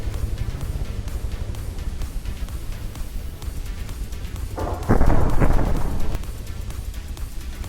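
Grenade blasts in From the Depths during a team deathmatch battle, heard as a deep rumbling burst rising briefly out of steady low engine and wind-like background noise midway through.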